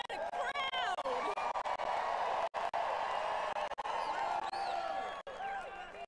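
A large crowd at an evening political rally in Phoenix, Arizona cheers and roars continuously, with shouts and whoops rising over a dense, steady wall of applause and voices.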